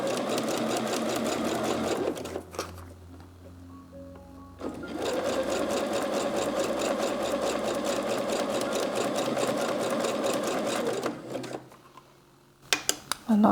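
Sewing machine stitching elastic onto underwear, overlapping the ends, a loud rapid mechanical whir in two long runs with a brief pause between, ending in a few clicks.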